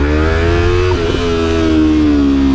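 Small-displacement Yamaha R3 sport motorcycle engine running loud and close, a steady buzzing drone with a brief wobble in pitch midway before settling into a higher, sustained tone.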